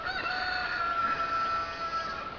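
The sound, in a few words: neighbor's rooster crowing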